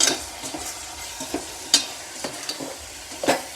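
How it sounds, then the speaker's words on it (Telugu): Turmeric, chili powder and sambar powder frying in a pan, a soft continuous sizzle broken by several sharp scraping and tapping strokes of a spoon against the pan, no talking. "ఇప్పుడు పసుపు, కారం, సాంబార్ పొడి వేసుకొని వేపుదాం"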